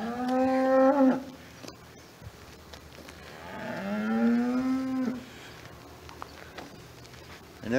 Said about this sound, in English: I never get a natural moo.